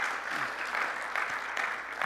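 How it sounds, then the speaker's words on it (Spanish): A church congregation gives a short, fairly soft burst of clapping during a sermon, an even wash of hands over about two seconds. "denle un fuerte aplauso"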